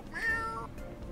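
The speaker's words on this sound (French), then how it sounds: "Le petit miaou et le gros miaou." A cat in The Sims 4 gives a single short meow, clear and close, with a rising then falling tone and nothing else around it.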